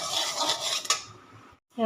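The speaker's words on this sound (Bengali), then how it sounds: "এবার দুটো একসাথে ভেজে নেব" Whole cumin, fennel and coriander seeds dry-roasting together in a wok for mango pickle, giving a steady close scraping and clinking of a spatula against metal that fades out near the end.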